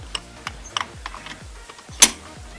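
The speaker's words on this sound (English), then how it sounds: "Now all that's left to do is pull the spark plug out, grab your 5/8 spark plug socket, long extension." A ratchet turning a 5/8 spark plug socket on a long extension loosens the spark plug on a Honda TRX450R ATV, giving a series of close, crisp clicks with one louder metallic snap near the end.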